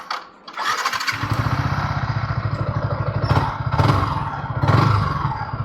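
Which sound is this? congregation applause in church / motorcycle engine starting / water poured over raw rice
motorcycle engine starting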